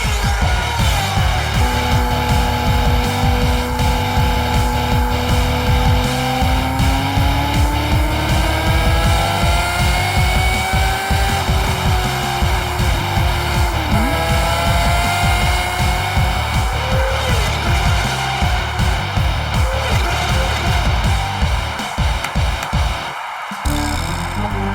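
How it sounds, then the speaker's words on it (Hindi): Cartoon super speedo race car driving in an animated kids' race, a loud continuous engine roar with rising and falling pitch sweeps, mixed with music and effects throughout. "किको भी अपनी सुपर स्पीडो कार के साथ पार्टिसिपेट करेगा।"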